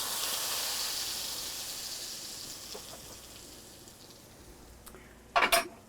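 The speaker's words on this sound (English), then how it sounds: "get that to cooking for our roux, our sauce" Plain flour sprinkled into a pan to cook for a roux, a soft hiss that fades over several seconds, then a couple of brief louder scraping clatters near the end.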